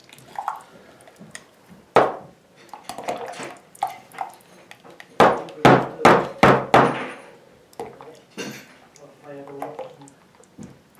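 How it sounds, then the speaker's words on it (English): A plastic bucket of freshly mixed alginate for body casting is tapped to work out air bubbles, giving several sharp knocks in short bursts, some quick clustered taps, and soft wet squishes between them, close and fairly loud. "Also tap the bucket. You want to try and work out all the air."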